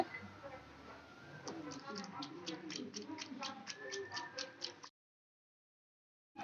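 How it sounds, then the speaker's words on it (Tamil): Eggs are beaten with three tablespoons of oil in a bowl for an omelette, making quick, regular clicking taps of a whisk or fork against the bowl while a person speaks over them. "இதில் 3 டேபிள் ஸ்பூன் எண்ணெய் சேர்த்து திரும்பவும் நல்லா அடித்து எடுத்துக்கோங்க."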